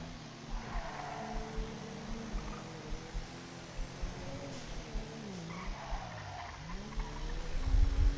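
A car in the GTA RP game revs and accelerates with wavering engine tones and tire skidding, moderately loud, alongside a regular ticking beat.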